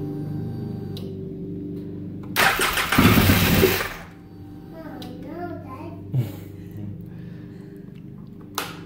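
A Polaris 800 X2 engine cranks and fires on its very first startup, giving a loud, rough burst of about a second and a half. It then drops back to a low, steady rumble, with a few faint knocks close by.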